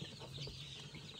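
Rhode Island Red chickens clucking softly in a small group, low busy murmuring and short clucks, faint and steady under ambient farm noise.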